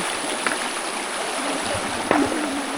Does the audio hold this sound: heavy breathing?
no